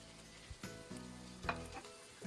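Garlic sprout roots are stir-fried with shredded pork in a wok. A faint sizzle sits under a few quick scraping tosses of the spatula.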